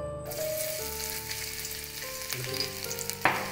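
Chopped ginger and garlic fry in hot coconut oil in a pan, giving a steady close sizzle with a faint sputter and a few stirring clinks, with no voices.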